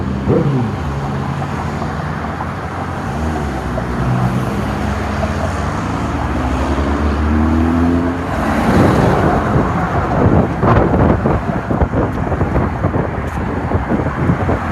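Road traffic streams past on a street beside a walking route, steady rumbling of passing cars and engines with wind buffeting the microphone, one vehicle swelling louder partway through.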